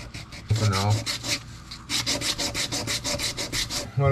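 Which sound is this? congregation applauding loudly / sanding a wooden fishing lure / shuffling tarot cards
sanding a wooden fishing lure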